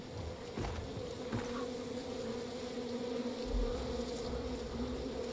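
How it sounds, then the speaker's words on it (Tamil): A beehive buzzes steadily in a video game forest, a continuous droning hum at moderate level with faint rustling ambience, no talking. "இங்கே ஏதோ ஒரு தேன்கூடு சவுண்டு கேட்குது."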